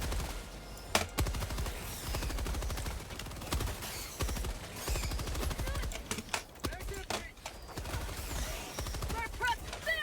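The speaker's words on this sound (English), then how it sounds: "this is where the machine gun comes out" In the Helldivers 2 video game, a machine gun fires long rapid bursts, loud and close, with dense rattling shots, blasts and clatter, while a voice talks underneath.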